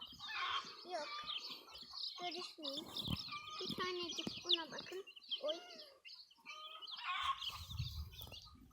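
Young chicks outdoors cheeping and peeping in quick, high, overlapping calls, fairly close and fairly quiet, mixed with a few lower clucks, while someone talks softly under and between them.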